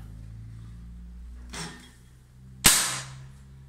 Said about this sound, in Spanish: Vamos a tirar con un balín que me gusta mucho, que es el JSB de 18 grain.